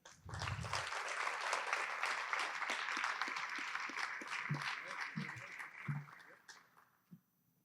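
Audience applause at a military recognition ceremony honoring Navy and Naval Academy appointees, a steady broad wash of many hands clapping that carries on for several seconds before thinning out and fading near the end.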